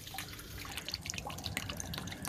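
Tap water runs while ash is rinsed from IC chips for gold recovery, giving a steady close splashing with scattered bright drips and droplet hits throughout.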